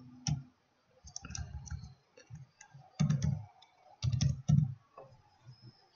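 Computer keyboard keys being typed to enter a file name while exporting data in ArcGIS, heard as several short bursts of close, soft clicking separated by brief pauses.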